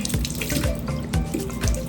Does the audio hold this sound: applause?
no